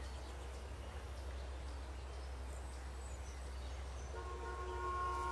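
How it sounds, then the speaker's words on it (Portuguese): In Life Is Strange: Before The Storm, a steady low drone fills the background, then a loud sustained pickup truck horn blast begins near the end and holds. "Mas essa buzina foi alta"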